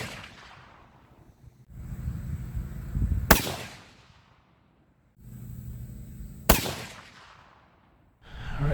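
A 7mm-08 rifle loaded with Barnes bullets fires two loud, sharp shots several seconds apart outdoors, each crack trailing into a rolling echo, with quieter shuffling noise between.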